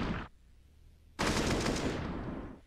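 Gunfire in the video game Counter-Strike during a professional match: a short burst, a pause, then a loud sustained volley of rapid automatic shots that trails off, with no talking.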